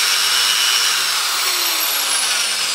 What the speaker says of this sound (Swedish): Jag sätter den mitt i det hål som jag ska borra.